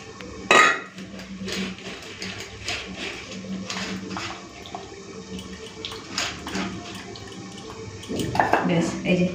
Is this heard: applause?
no